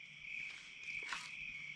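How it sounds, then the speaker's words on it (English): Loud, steady cricket chirping fills a still, windless evening beside a completely calm river in Idaho, a continuous high trill with no talking over it. "crickets are kind of loud"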